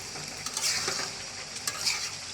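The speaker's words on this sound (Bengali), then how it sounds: "মুরগি কষানোটা জাল ফ্রাইটা রান্না করতেছি" Chicken jhal fry kosha sizzles and crackles in a pan while being stirred, a bright, continuous hiss with a few soft scraping strokes.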